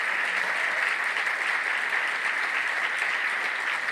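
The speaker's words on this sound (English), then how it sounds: "So one more time, let's give a round of applause to Josh, Marissa, and everyone else that helped put this together." Conference audience at a psychedelics event applauding, a steady, dense hiss of many hands clapping at even loudness from start to finish, with no talk over it.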